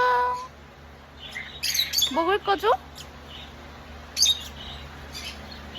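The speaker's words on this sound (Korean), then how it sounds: "이거 앵무새 어떤 앵무새예요 이거는?" A parrot at an animal park in Daegwallyeong lets out a quick burst of sharp, close chirps, then one more squawk a moment later, between stretches of people talking nearby.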